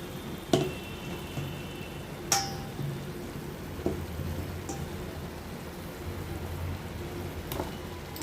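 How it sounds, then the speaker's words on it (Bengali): Ginger and spices sautéing in a pan for katla fish curry with potatoes, a soft continuous sizzle broken by a few sharp utensil clicks and scrapes, alone with no talking. "এখন ভালো করে আমি কষিয়ে নিচ্ছি"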